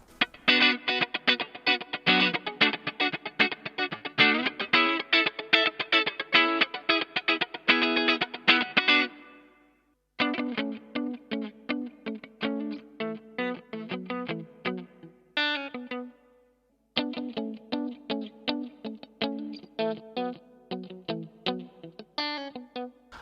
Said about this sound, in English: It's a really characteristic sound that you can hardly find in any other guitars than a Stratocaster